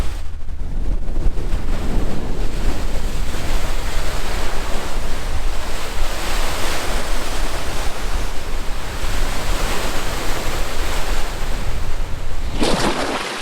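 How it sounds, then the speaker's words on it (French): Loud, continuous surf of waves breaking on the shore at Tommy Thompson Park in Toronto, with a steady roar and wind buffeting the microphone throughout. "regardez les vagues ici!"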